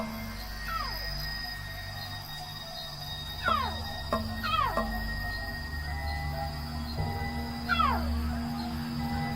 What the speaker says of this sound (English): That's Katswiri's cry.